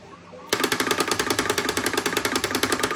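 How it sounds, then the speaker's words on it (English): Recoil solenoids in an arcade light gun clatter in a rapid, steady burst of sharp, near, mechanical knocks, firing fully automatic for LA Machine Guns on the Supermodel emulator after a half-second pause. "And there's recoil on LA Machine Guns running on Supermodel."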